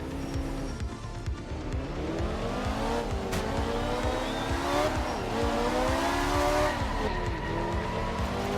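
Tires skid and squeal as a car spins out in a racing video game, engine droning steadily underneath with wavering pitch through the whole stretch.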